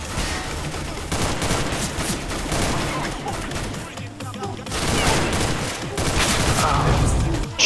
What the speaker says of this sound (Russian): Да, да, уже стреляют